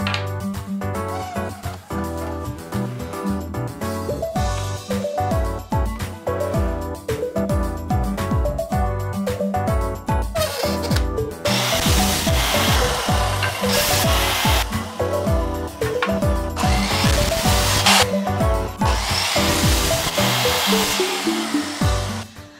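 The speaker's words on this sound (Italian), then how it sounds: "Tagliamo i pezzi e vi faccio vedere." Wooden pieces for a picture frame are cut with a power tool, a continuous loud whining motor sound with changing pitch and rasping bursts as the blade bites into the wood, with no talking.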